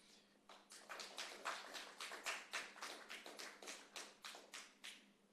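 An audience claps in a panel discussion, a run of roughly twenty distinct sharp claps in uneven rhythm, fairly faint and heard without talk.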